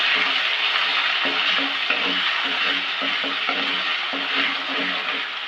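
About one and a half spoons of ginger garlic paste fry in hot oil with a loud, dense, hissing sizzle, while soft stirring strokes tap along steadily underneath.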